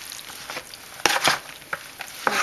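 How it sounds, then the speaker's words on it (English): Chicken and gluten-free pasta salad stirred with canola mayonnaise in a bowl makes close, soft, wet scraping and squelching strokes, several uneven sweeps with a few sharper knocks, no one talking. "I'm going to get this all stirred up"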